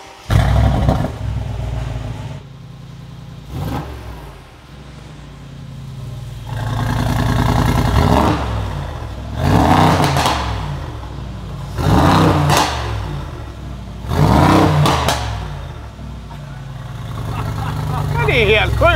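A Brabus G63 fitted with a powerpack exhaust revs repeatedly, loud and close, each blip rising and falling between quieter idle stretches, with a voice talking briefly between revs.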